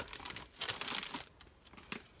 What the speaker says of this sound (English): Just cutting wherever I see a little space. And I'm going to end up ripping like that.